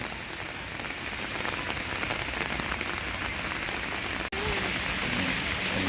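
Steady, close rain pattering on a surface at a forest temple in Udon Thani, Thailand, a dense even hiss of drops with no voices, briefly interrupted by a tiny dropout near the end.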